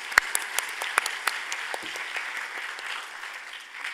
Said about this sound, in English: Please join me with a huge round of applause in welcoming Ms. Asha George.